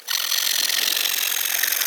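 A kitchen knife saws back and forth through a piece of wood in a steady, raspy scraping that sounds close and continuous, with no voices.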